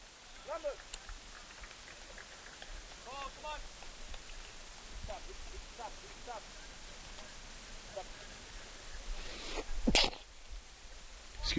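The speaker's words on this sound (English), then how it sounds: "so I just stifled a sneeze here" A soccer commentator at a Flagler men's match lets out a stifled sneeze, a sudden sharp burst near the end, after stretches of quiet crowd murmur and faint distant voices in the background.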